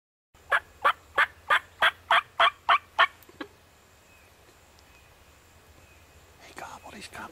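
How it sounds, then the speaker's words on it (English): A wild turkey gobbler with a double beard and long spurs gobbles on a freezing Florida morning, a run of about nine loud, evenly spaced gobble notes up close, then quiet woods with faint rustling. "He gobbled, he's coming."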